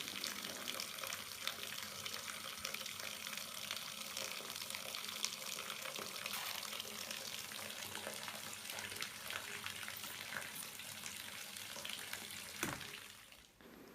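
Continuous hissing spray of water squirting from a toy squirty fish during water play, steady and close for most of the stretch, with a brief splash near the end before it fades.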